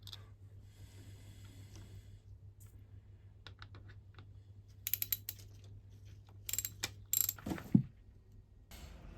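A ratchet clicks close by while tightening bolts on the water pump impeller of a 1998 Kawasaki, with quiet, sparse clicks at first, then short louder bursts over a low steady hum.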